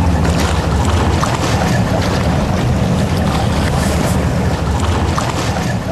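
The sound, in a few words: boat on a lake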